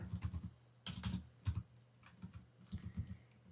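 Computer keyboard keys being typed while entering C++ linked-list code: quick bursts of close, crisp clicks with brief pauses between them, fairly quiet and with no talking.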